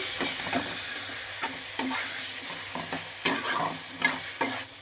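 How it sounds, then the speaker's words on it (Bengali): A mash of pumpkin and egg is stirred in a frying pan under a constant soft sizzle, with repeated scraping clicks of the spoon against the pan at irregular intervals. No voices are heard. "ভালো করে নেড়ে নিচ্ছি এটা নাড়তে নাড়তে পুরো শুকনো করে ফেলতে হবে"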